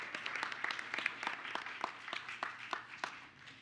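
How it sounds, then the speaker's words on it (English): Applause for students at a school board meeting, moderately faint, with distinct individual claps over a light crowd wash, tapering off toward the end. "Can we have one more round of applause for our amazing students?"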